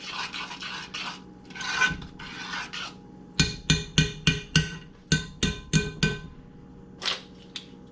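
A spoon stirs a thick fudge mixture in a pot, making rhythmic rasping scrapes: a few softer strokes, then a fast run of about ten sharp strokes and one or two more at the end.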